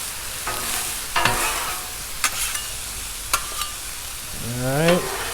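Beef fried rice ingredients cook on a Blackstone griddle, sizzling steadily up close, with a few sharp scrapes and clanks of a spatula on the hot flat-top.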